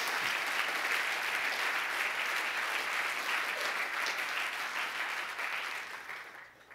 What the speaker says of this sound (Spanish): Dele fuerte ese aplauso al Señor.